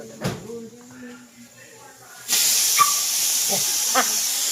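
Voices talk briefly, then a sudden loud hiss of mustard seeds hitting hot oil for pickle-making takes over, with a few sharp pops scattered through it.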